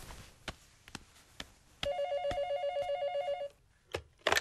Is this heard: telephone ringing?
yes